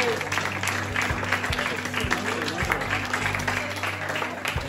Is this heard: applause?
yes